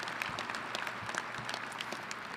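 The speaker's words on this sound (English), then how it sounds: "Let's give her a round of applause." At a university winter commencement, the audience gives the chancellor a round of applause, a steady, moderately distant patter of many hands clapping with scattered sharper claps standing out.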